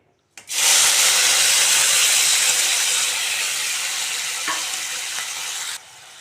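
Onion, tomato and garlic hit hot coconut oil in a pan with a sudden loud sizzle that settles into a steady, gradually fading hiss, with a couple of brief stirring knocks, before cutting off.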